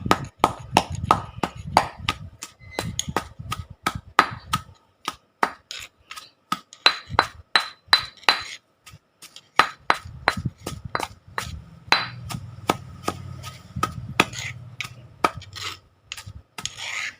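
Roasted peanuts are pounded with panang curry paste in a mortar, a steady run of sharp repeated thuds close by, pausing briefly and then resuming.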